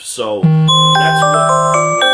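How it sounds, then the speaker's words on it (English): A phone alarm going off: a bright, ringing chime tone that sounds repeatedly, loud and close, just after a few brief spoken words. "That's my alarm telling me I'm supposed to be doing something else right now."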